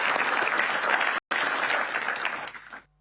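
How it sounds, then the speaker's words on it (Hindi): Sustained audience applause fills a large hall during a school exam-discussion event, dense and steady for nearly three seconds with a brief cut before tapering off at the end. "उसके लिए भी तालियां।"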